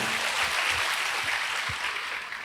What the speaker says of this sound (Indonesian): Berikan tepuk tangan buat Allah kita.